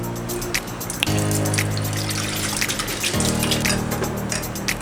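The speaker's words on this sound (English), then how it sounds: "almond milk, natural, unsweetened." Unsweetened natural almond milk pours steadily into a blender for a blueberry smoothie, a continuous liquid trickle and gush running for several seconds over steady background music.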